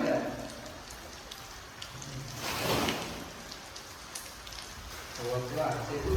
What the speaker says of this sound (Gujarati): વરસાદ તો ફૂલ આવે છે